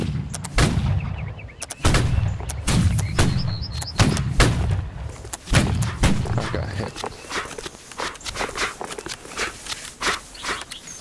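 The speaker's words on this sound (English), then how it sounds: "Ripple fire is when we fire in succession, going from left to right or right to left." Recruits at basic training fire rifles in ripple-fire succession down a line, a rapid string of sharp, loud gunshots one after another, the later shots quieter and more spread out.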